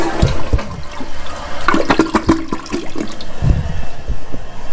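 A Glacier Bay dual-button toilet runs its smaller number one flush, a close, loud rush and gurgle of water draining for several seconds.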